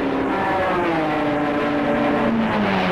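Engines roar steadily as a racing car speeds past at high revs at the 1966 Le Mans 24 Hours, the pitch sliding as it goes, with more engine noise blending in behind.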